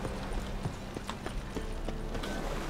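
Steady clip-clop of a horse's hooves trotting at an even pace, mid-distance, over a constant background hum with no talk, in the video game The Witcher 3: Wild Hunt.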